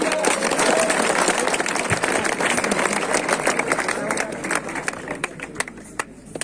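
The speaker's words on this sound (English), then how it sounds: "A big clap" A school audience breaks into applause at an event, a dense burst of many hands clapping that gradually thins and tapers off, with some crowd murmur underneath.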